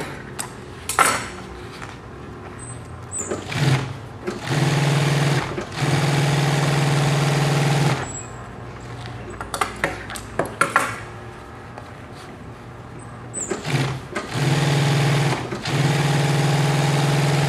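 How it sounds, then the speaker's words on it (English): A sewing machine stitches fleece onto golf cart seat foam, running in several steady, loud bursts of rapid humming clatter, separated by pauses with handling clicks and rustles. "Sewing the fleece down on the foam."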